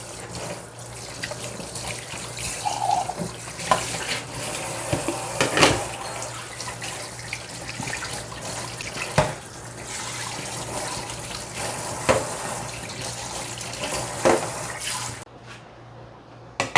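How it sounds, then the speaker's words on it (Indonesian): Hot water runs from a tap into a sink in a steady, close stream with splashes and knocks scattered through it, then cuts off near the end. No one talks. "Ambil airnya di sini, air panas."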